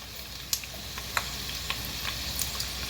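Cumin seeds and urad dal frying in hot oil, a steady close sizzle with a few sharp pops and crackles as the spices spit.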